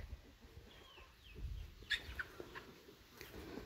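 Chickens clucking at moderate distance, with a few sharper calls and outdoor farm noise underneath.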